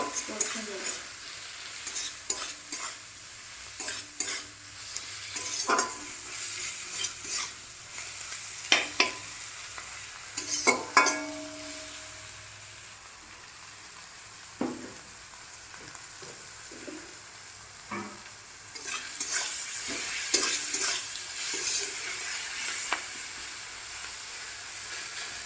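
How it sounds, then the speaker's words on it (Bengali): Egg curry with turmeric and chili powder being sautéed in a pan for capsicum dim kosha, with an intermittent sizzle and repeated scraping stirs of a spatula, fairly close and steady with no talking. "হলুদ, লঙ্কা গুঁড়ো দিয়ে এটাকে আমি কষে নেব।"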